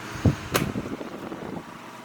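An electric fan runs with a short burst of rattling clatter near the start, then settles into a low whir that fades toward the end.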